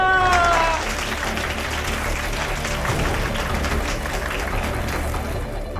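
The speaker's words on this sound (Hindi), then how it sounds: "तालियां!" Studio audience applause on a TV game show, a loud, sustained burst of clapping that starts over a brief whining, meow-like tone and then carries on steadily.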